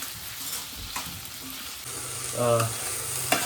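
Two green chillies fry in hot oil as a chicken masala is tempered, a soft steady sizzle with light stirring and clinks, swelling briefly into a louder crackle midway.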